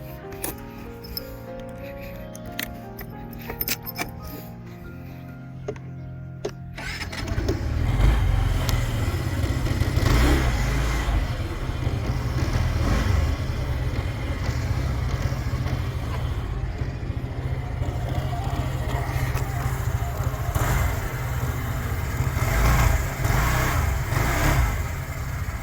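An Aprilia SR160 scooter: a few mechanical clicks and cranking, then the engine starts at about seven seconds and runs steadily with a low, buzzy exhaust note and repeated rises in revs, close and fairly loud.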